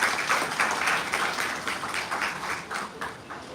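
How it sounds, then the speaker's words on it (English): A crowd at a Miss World Philippines 2024 press presentation applauds, a dense patter of many hands clapping together at moderate loudness, fading slightly toward the end. "let's give them a warm applause."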